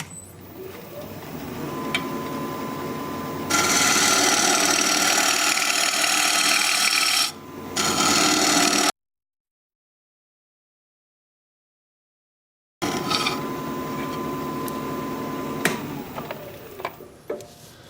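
Wood lathe turning a natural edge maple bowl at about 1200 RPM, a steady motor hum with bursts of loud, rough scraping from the cutting tool, cut off by a few seconds of dead silence before the cutting resumes.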